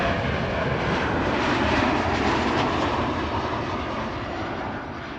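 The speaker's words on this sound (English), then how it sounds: "it's an Embraer 195 actually. And apparently this is flying on behalf of Lufthansa, arriving from Munich" A Lufthansa-operated Embraer 195 jet airliner arrives at Amsterdam Schiphol, its engines making a loud, broad roar close by that slowly eases off as it passes, with no talking.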